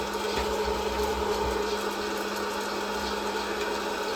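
Green coffee beans rattle and swish steadily as they are shaken and stirred during home roasting, a dense continuous scratching texture over a low steady hum of the roaster.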